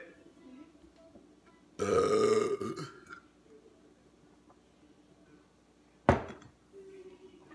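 A single loud, rough burp after a drink of homebrewed oat coffee beer, lasting about a second, followed by quiet and then a sharp knock, with faint cooing birds in the background.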